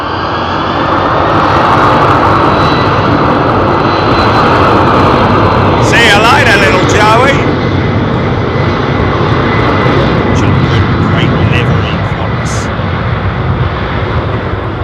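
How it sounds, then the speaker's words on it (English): Boeing 767 jet rolling out at London Heathrow Airport: a loud, steady engine roar throughout, with a brief whine partway through and faint voices underneath. "another 767 rolling out"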